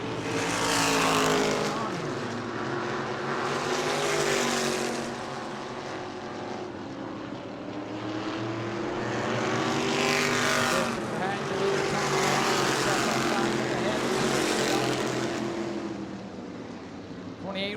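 Stock race cars with 602 motors roar around the track in a tight pack, engines rising and falling in loud, continuous waves of revving as the field passes, with an announcer talking over the noise.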